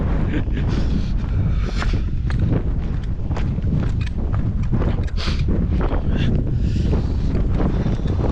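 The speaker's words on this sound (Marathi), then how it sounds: "खतरनाक हवा आहे." Strong cold wind buffets the microphone at Alang Fort in the Sahyadri mountains, a loud continuous roar with gusting rumble throughout.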